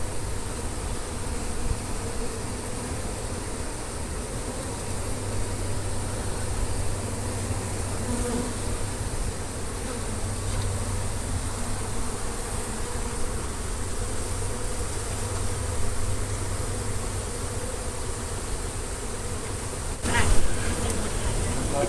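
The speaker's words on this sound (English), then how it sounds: "The bulk of the bees are down in there" Dense, steady buzzing of a bee colony that has moved into a house wall through termite damage, a close continuous drone with a brief louder burst near the end.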